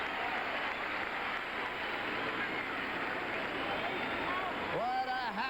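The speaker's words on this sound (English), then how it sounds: "And listen to this crowd." Large crowd cheering and roaring at the Belmont Stakes horse race, a dense continuous wall of applause and shouting, with a voice emerging near the end.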